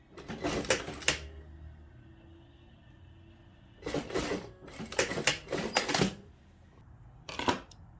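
A sewing machine stitches the seam of a high-neck midi dress in a few short, quiet runs, each rapid burst of needle clatter separated by pauses.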